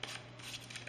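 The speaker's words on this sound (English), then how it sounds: "one more little shuffle here" Playing cards being shuffled during a card trick, a brief soft burst of riffling and sliding card sounds, quiet and close, with no speech.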